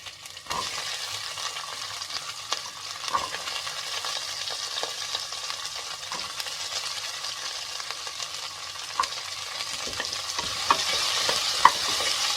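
Chopped onion and garlic sauté in a pan for rice and lentil cooking, a steady sizzle with occasional sharp spatula knocks and stirring scrapes, close up and without any voices.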